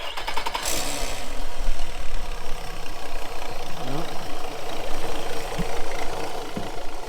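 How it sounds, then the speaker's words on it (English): A car with a six-cylinder engine sputters at idle, losing fuel delivery, a rough, uneven rumble that runs throughout while a voice speaks over it. "So I guess we'll just turn the engine off"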